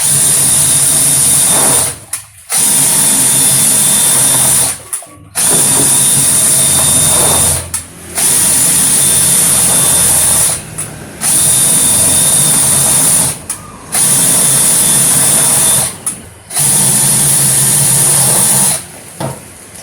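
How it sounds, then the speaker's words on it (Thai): Electric drill spinning in a bucket to mix car wash foam concentrate, a loud, steady high whine running in long bursts with brief pauses between each run as the direction is switched. "สว่านมันหมุนได้สองทางครับหมุน หมุนซ้ายหมุนขวาแล้วก็ปั่นสลับกันไป"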